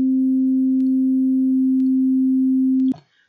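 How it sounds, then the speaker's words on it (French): Pure electronic sine tone at the note C, a single steady unwavering pitch held loud and clean for about three seconds before cutting off abruptly with a brief click and near silence after. "c'est un son pur"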